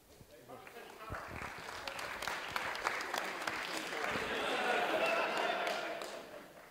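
After a Linux conference talk, the audience breaks into full applause that swells steadily and peaks near the end, with some voices mixed in beneath the clapping.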